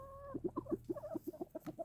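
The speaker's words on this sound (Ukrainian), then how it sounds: "Петя на чеку охороняє своїх курочок." Chickens cluck in a quick, rhythmic series of short clucks, fairly close, with a brief higher call at the start, in a garden in September.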